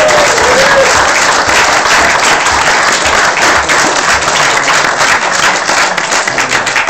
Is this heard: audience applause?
yes